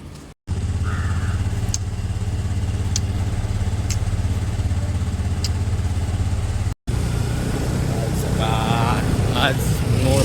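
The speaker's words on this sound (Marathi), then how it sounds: "गाडी आता स्टार्ट करू लवकर सावकार मला." A car engine runs at a loud, close, steady idle after a brief cut at the start, with a person talking near it and some clatter toward the end.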